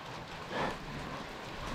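Steady rain falls outdoors in the mountains near Korab, a continuous soft hiss that swells briefly and then holds even, with no talking.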